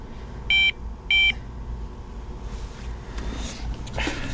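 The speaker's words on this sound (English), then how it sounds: "I can hear some beeping in the background" Two short, bright electronic beeps about half a second apart from a breathalyzer in a 2001 Oldsmobile that won't start, followed by a quiet low hum and some faint rustling.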